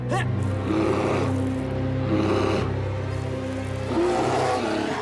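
A bear roars in an animated Transformers: Rescue Bots cartoon scene, a loud, sustained growling roar holding for about five seconds with rising and falling intensity.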